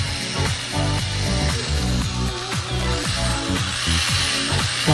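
A drill bit grinds continuously while being worked around the sides to enlarge a hole in an acrylic blank, a loud, dense rattling whir with rhythmic pulsing and no talk.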